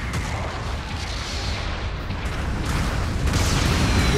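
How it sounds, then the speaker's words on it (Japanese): Support artillery bombardment in Gundam Battle Operation 2 lands as a dense, continuous roar of overlapping booms and blasts, loud throughout with a few swelling bursts. "砲撃が来ます。"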